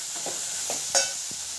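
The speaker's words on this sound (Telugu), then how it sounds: "మనం కడిగి పెట్టుకున్న పెసరపప్పు కూడా వేసేసి దాన్ని కూడా కొంచెం ఆయిల్లో ఫ్రై చేయాలి." Washed moong dal frying in a little oil, with a brief, steady sizzle and soft scraping from stirring, close and alone.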